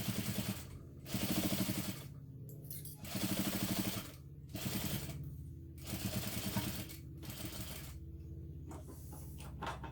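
A sewing machine bastes a long-stitch, quarter-inch seam along the side of a hobo bag, running in repeated bursts of rapid mechanical chatter with short pauses between them; close and alone, no voices.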